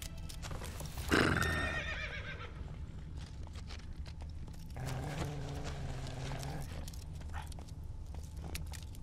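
A horse in the video game The Witcher 3 gives a loud, close neigh near the start, followed by steady hoofbeats that continue through the rest of the clip with no talking.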